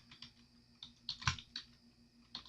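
Quiet, sparse keyboard typing while a paragraph is entered into a word-processing document, a few scattered key clicks and a louder cluster of taps with pauses between, close and alone without speech.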